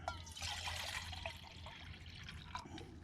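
Water poured from a container into a pot on a lit camping stove outdoors, 500 millilitres for boiling, a steady close trickling splash over a low burner hum.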